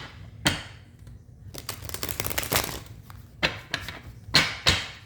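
A deck of tarot cards is shuffled by hand in several quick bursts, the riffles giving sharp crisp rattles with short pauses in between, close and fairly quiet with no talking.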